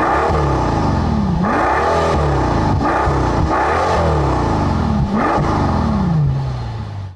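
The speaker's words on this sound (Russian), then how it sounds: "Как вы могли услышать, выхлоп немного приглушен в сравнении с другими заряженными машинами с большими V12." A 2013 Mercedes-Benz SL65 AMG V12 engine revs repeatedly, pitch sweeping up and falling back in rising-and-falling waves, loud and close with a throaty, slightly muffled exhaust tone.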